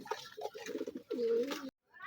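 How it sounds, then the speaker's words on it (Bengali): At a pigeon market, pigeons coo in low, throaty bursts, close by, with market voices chattering around them before a brief silence. "এখানে দেখা যাচ্ছে কবুতর"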